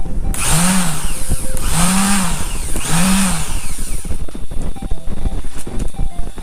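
A Doliz BA 330 electric sander whirs loudly and steadily, its pitch swelling in three rhythmic surges before settling into a rougher, even drone.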